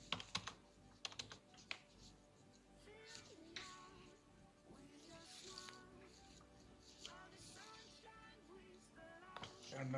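Code being typed on a computer keyboard for a Laravel and Firebase admin panel, a steady run of close, fairly quiet key clicks with irregular bursts and brief pauses, and no talking.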